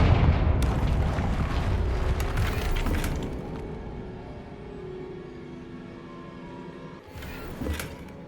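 A Confringo blasting spell explodes in the Hogwarts Legacy video game, a loud broadband blast with rumbling debris that decays over several seconds before a second smaller burst near the end.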